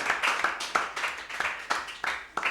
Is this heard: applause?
yes